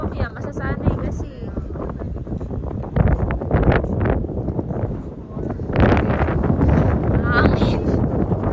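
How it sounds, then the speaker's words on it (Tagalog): Wind buffets the microphone in a park in loud, rumbling gusts that swell and fade, while people talk over it. "Hangin."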